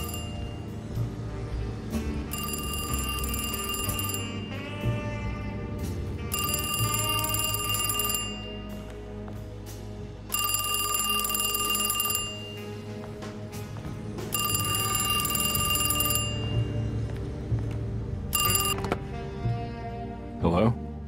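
In the Alone in the Dark video game, a telephone rings in repeated long bursts with short pauses between them over a steady low in-game background, with a voice talking along with it.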